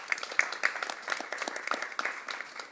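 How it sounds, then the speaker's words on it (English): An audience at a parliamentary reform commission event breaks into applause: a steady patter of many hands clapping, fairly close and even, with no voices over it. "give the commission a big round of applause for engaging young people"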